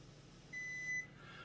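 A breath ketone meter gives a single short, high electronic beep lasting about half a second after a breath test, clear against quiet room tone.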